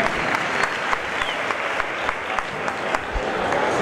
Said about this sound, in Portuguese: Vamos aplaudir a saída de pista desse grande gigante do Brasil.